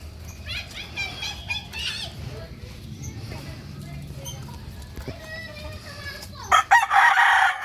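An eight-month-old gamefowl rooster crows loudly near the end, with clucking and rustling from birds and someone talking beforehand.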